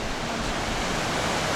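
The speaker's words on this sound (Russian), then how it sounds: "Ну, так это же вода и есть, только такая быстрая." Fast-flowing water rushes at a waterfall, a dense, continuous broadband roar heard up close with no voices.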